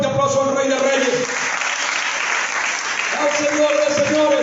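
A church congregation gives a loud round of applause for the King of Kings, a dense, sustained patter of many hands clapping, with voices mixed in over it.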